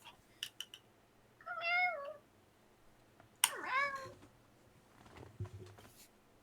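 Alora, a cat, gives two separate meows a couple of seconds apart, faint and close, with quiet room noise between them.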